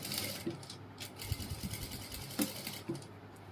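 A sewing machine stitches a ladies' coat dress in short bursts, the needle chattering in quick runs broken by brief pauses and small clicks, close and fairly quiet.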